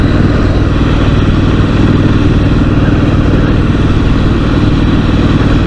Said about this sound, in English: You can feel this sort of start moving along when you put your throttle down a bit there.